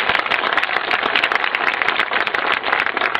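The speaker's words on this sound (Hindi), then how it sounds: "आप इस ब्रह्मर्षि समाज, इस जागृत समाज के लिए एक बार तालियां बजाइए" A large audience at a community gathering claps loudly and steadily, the dense patter of many hands running without pause throughout.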